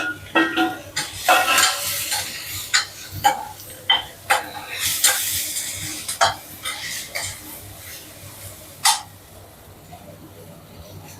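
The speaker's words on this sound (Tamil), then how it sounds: "தக்காளி லைட்டாக வதங்கினது இப்போ வெண்டிக்காயும் அதிலே போட்டுக்கலாம்." Okra tipped into a pan of lightly cooked tomatoes, then stirred: a string of close scraping and clinking knocks against the pan over a soft sizzle, tapering off toward the end.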